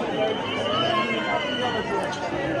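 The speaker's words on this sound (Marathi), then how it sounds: "समोर त्या अंशामुळे भरपूर भाविकांची गर्दी जमलेली आहे" Dense crowd of devotees gathered at Jejuri temple (Malhargad) on Somvati Amavasya, a steady, close hubbub of overlapping chatter and movement filling the whole stretch without pause.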